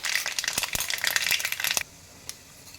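Mustard seeds crackle and sizzle in hot oil for upma, a dense bright spattering hiss with sharp pops that stops abruptly, followed by faint quiet and a single late pop.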